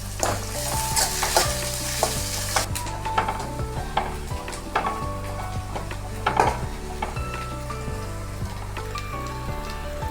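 Onions sautéing in oil with curry leaves and slit green chilies for a prawn kolumbu: loud, continuous sizzling with a brisk run of spatula scrapes and clanks against the pan.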